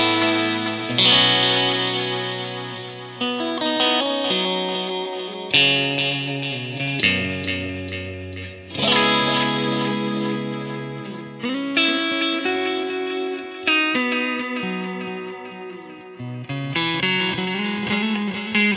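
Electric guitar played through a Pete Cornish SS3 pedal into a TC Electronic 2290 delay, with a driven, sustained tone. Phrases of chords and single notes ring out loud and close, trailing delay and reverb, with no talking.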